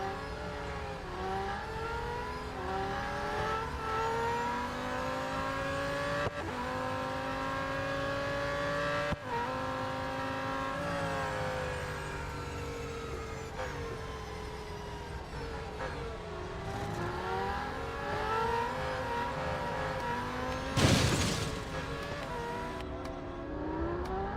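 A McLaren Solus GT race car engine in Real Racing 3 revs continuously, its pitch rising and falling through repeated gear changes over a long stretch, with a short sharp burst near the end.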